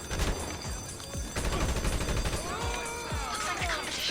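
Rapid gunfire rattles through a GTA 5 shootout with police, bursts of shots and impacts layered close and loud over continuous game noise, with brief pauses between volleys.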